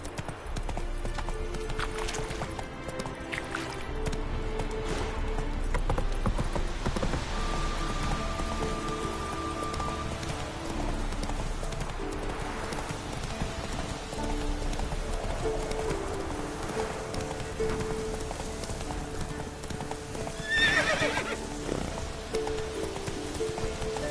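Roach the horse in The Witcher 3 gallops with a steady, continuous clip-clop of hooves over rain and game music, with a brief whinny near the end.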